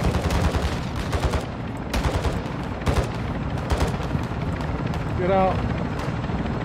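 A sniper rifle fires in Call of Duty Warzone 2, a sharp report among other sharp gunfire cracks over a rumbling engine-like drone, with a voice shouting briefly.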